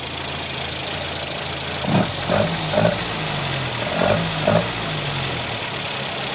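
A 1962 Triumph TR4 engine idles under an open hood, a steady, close mechanical rumble with faint rhythmic knocking pulses and no voices.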